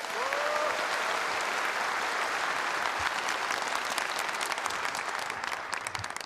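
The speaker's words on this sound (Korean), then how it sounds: "수고해주신 모든 출연진분들께 다시 한번 큰 박수를 부탁드립니다." A large audience at a Korean Liberation Day national ceremony gives sustained applause for the performers, a broad even wash of clapping that holds steady and eases slightly toward the end.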